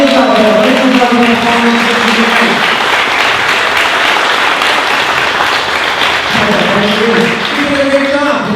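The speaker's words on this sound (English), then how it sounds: "Warm up that round of applause, guys." Audience applause at a Corvette giveaway award ceremony, loud sustained clapping from a large crowd, with someone speaking over it at the start and again near the end.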